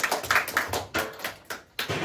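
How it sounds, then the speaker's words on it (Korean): Clapping to open a Tuesday Bible study class, a small group applauding in short irregular bursts of hand claps close by, with brief pauses and no speech. "자, 우리 박수 치고 시작하겠습니다."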